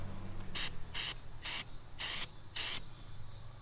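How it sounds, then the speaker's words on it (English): Brake cleaner sprayed from an aerosol can onto car paint in five short, evenly spaced bursts of sharp hiss, close and loud, with quiet gaps between them. "it's just going to be a light coat of brake cleaner"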